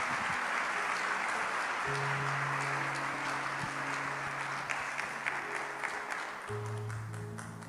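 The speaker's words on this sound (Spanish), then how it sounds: "Dale un aplauso bien fuerte al Señor." Church congregation clapping loudly and steadily throughout, a thick wash of applause with a sustained tone underneath, no speech on top.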